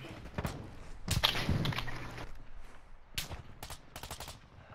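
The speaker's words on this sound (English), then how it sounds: "We just got sniped from my left." Sharp sniper shots and other gunfire crack through a multiplayer shooter match, with several sudden loud reports coming in irregular bursts, one sustained burst, and a faint ringing tail between them.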